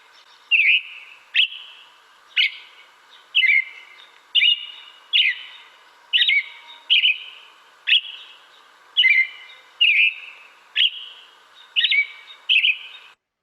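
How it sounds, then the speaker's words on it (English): Repeated bright, whistled American robin song phrases, roughly a dozen short bursts in a steady rhythm, clear and fairly close with no other sounds. "That's the robin for you"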